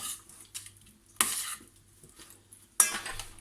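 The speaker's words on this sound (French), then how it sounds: "je récupère ma cuillère ici et je viens comme ça enrober mes pommes de terre" A spoon scraping and clinking against a dish while coating potatoes for a tortilla, heard as three short metallic stirring strokes with quiet gaps between, fairly close and soft, with no voices.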